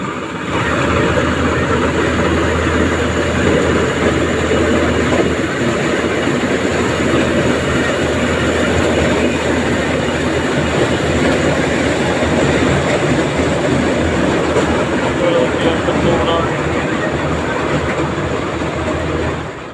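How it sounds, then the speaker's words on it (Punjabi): A Dasmesh maize harvesting machine runs during the corn harvest, putting out a loud, steady engine drone with constant mechanical rattle that holds unbroken throughout, with no talking. "ਆ ਗਈ ਹੈ ਮਸ਼ੀਨ ਉਹ ਚੱਲੀ ਹੈ"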